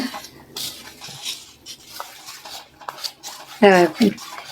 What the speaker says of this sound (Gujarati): ઘી અને લોટને મિક્સ કરી નાખવાનું